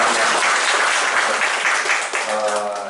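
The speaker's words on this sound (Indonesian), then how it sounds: "Kita tepuk tangan Mas Fikri dan Mas Selamat." Audience applause in a campus monitoring and evaluation session for distance-learning students, honoring two staff members; dense steady clapping fills the whole stretch, with a voice faintly audible underneath near the end.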